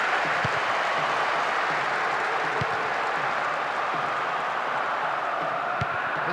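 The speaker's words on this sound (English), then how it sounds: "A section of the crowd is urging them to shoot, and not before time" Stadium crowd in Winning Eleven 2008 football match, a steady broad roar of supporters urging players to shoot, constant and distant with no break.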